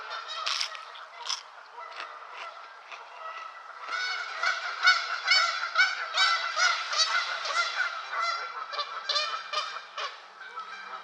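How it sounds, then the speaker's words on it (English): A noisy flock of geese arriving over a swamp on a February day, many overlapping honks and calls, sparse at first and then building into a dense, continuous chorus at moderate distance. "More birds coming in."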